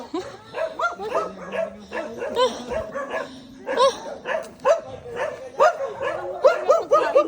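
Several dogs bark and yip repeatedly at a quiet, clean spot, loud and close in an irregular rhythm, with some whimpering mixed in and a person talking between the barks.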